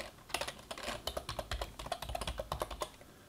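A password is typed on a computer keyboard, a quick run of close, light key taps with an uneven rhythm lasting a few seconds.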